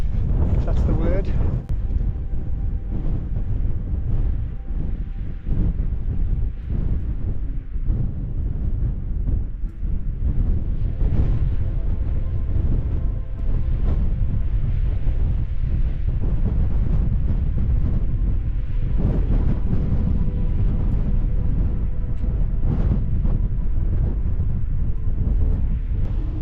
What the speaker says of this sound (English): The helm wind blows on Crossfell when there's no wind anywhere else.